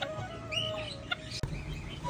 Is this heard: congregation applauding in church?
no